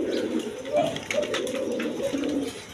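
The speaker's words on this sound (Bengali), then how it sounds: "এখানে এক পেয়ার দামাচিল কবুতর দেখেন" A pair of Damachil pigeons coo steadily and close by, low rolling calls overlapping in a continuous murmur with a faint higher chirp now and then.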